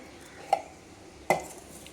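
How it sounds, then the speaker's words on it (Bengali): Two sharp metallic clanks of a pressure cooker and a wok being handled for washing, spaced apart over a quiet background. "বাসন ধুয়ে নিই প্রেশারটাও ধোবো কড়াইটাও ধোবো"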